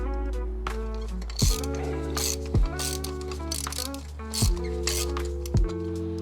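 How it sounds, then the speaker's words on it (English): Ratcheting 5/8 socket on a long extension backing out a spark plug on a 5th-gen Toyota 4Runner: rapid close pawl clicks in short bursts, broken by a few louder clunks as the handle is repositioned. "we have our handy 5/8 socket. I always like to use the longer extension. And let's take the first spark plug out."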